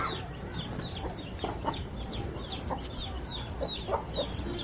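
A rooster with a long tail and thick beak, held in hand on a farm, gives repeated short clucks and chattering calls in a steady rhythm, with other fowl faintly clucking in the background.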